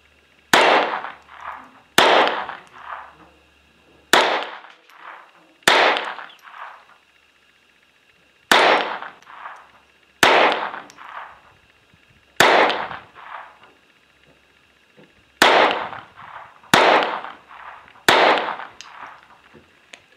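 A GSG Firefly pistol fires Thunderbolt rounds at an outdoor range: ten sharp, loud gunshots come one at a time at an unhurried, fairly regular pace, each trailing a short echo, with no talking.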